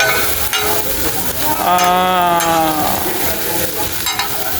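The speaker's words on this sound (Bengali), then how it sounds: "তেলের মধ্যে পুরো ছেড়ে দিয়েছে ভাই" Hilsa fish fry in a pan of hot oil with green chilli and onion, a loud close continuous sizzle and crackle. Brief tonal squeaks rise over the frying midway.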